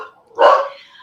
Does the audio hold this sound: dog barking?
yes